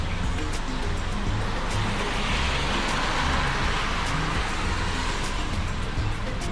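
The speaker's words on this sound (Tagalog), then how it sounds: "Traffic." Night road traffic in Madou, Taiwan, heard as a steady, dense roar of passing vehicles and wind rush, loud and unbroken throughout.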